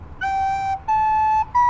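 Recorder sounding three clean, sustained notes in a short rising pattern, played up close with nothing else in the background.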